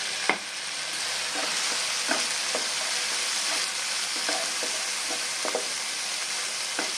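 A spice paste with Kashmiri chili powder fries in oil in a pan as it is stirred, giving a steady close sizzle broken by a few sharp scrapes and taps of the spoon.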